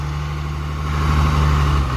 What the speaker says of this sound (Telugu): old model truck